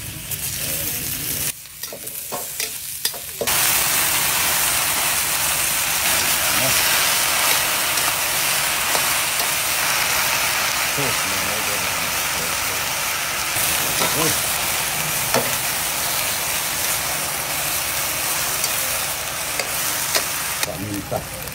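Onions frying in a pan while a breakfast dish is cooked, with a loud, steady sizzle and hiss that runs throughout, broken by occasional scrapes and stirring clatter, and brief spoken words now and then.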